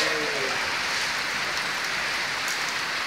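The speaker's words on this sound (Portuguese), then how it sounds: "Pessoal, a chuva no sertão aí, ó." Steady, dense rain falling in the Piauí backlands, a loud continuous hiss with scattered drops close by and no break throughout.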